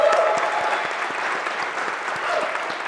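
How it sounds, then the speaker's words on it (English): Steady audience applause at a developer summit finalists' introduction, dense clapping filling the room without letup, no voices over it. "can we just give a round of applause to all the finalists that have made it through?"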